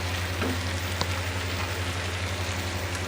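Chicken pieces fry in oil in a karahi as powdered spices go in, producing a steady, even crackling sizzle with a faint low hum underneath and one small tap.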